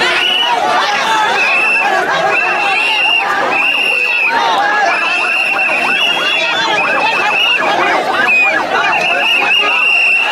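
A large crowd at an outdoor Islamic sermon (waz) in Chuadanga chants the takbir together in loud, repeated, rhythmic shouts, with the preacher's amplified voice and crowd chatter mixed in throughout.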